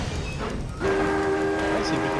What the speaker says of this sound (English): does this train have tracks that can go all the way around, or we just go back and forth?